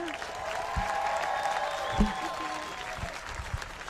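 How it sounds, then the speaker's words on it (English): Steady applause from an audience at an outdoor family fun night in New Smyrna fills the space, an even wash of clapping that holds throughout with a brief louder spot in the middle. "let's have another big round of applause for Caitlin."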